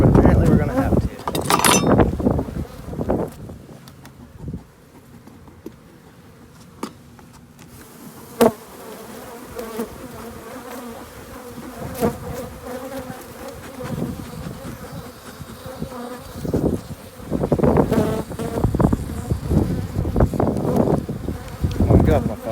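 Honey bees swarm around an open beehive during a hive check, a dense, continuous buzzing that swells and fades, with scattered handling knocks and a person talking at times.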